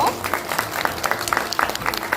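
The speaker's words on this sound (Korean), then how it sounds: "박수 크게 보내주십시오." At an award ceremony for a children's song festival in Korea, the audience gives brief applause for a second-grade gold prize winner in solo singing. Scattered claps come through over room noise, with a voice speaking over them.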